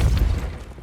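A Depulso spell blast goes off in Hogwarts Legacy, a short heavy boom with strong low rumble that fades over under a second, loud and close with no voice over it.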